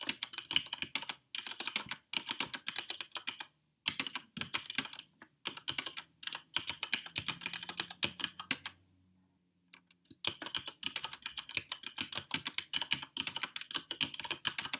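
Steady typing on a mechanical keyboard, close and crisp, with quick bursts of keystrokes broken by short pauses and one longer silent gap before the clicking resumes.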